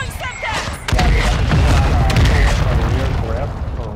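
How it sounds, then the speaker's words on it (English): A mortar strike explosion in Modern Warfare II, a heavy low boom rumbling on for several seconds amid battlefield noise, with a voice talking over it. "Mortar strike on the way."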